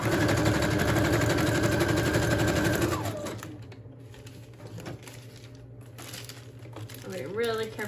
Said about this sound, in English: I'm just going to sew that all the way around.